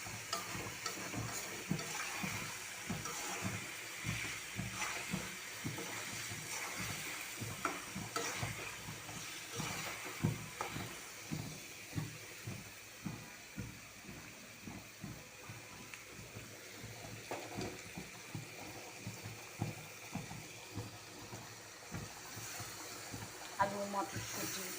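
Food frying in a pan with turmeric, chili powder, cumin and salt is stirred steadily, with a soft continuous sizzle under a repeated rhythmic scraping of the spoon, fairly quiet and close.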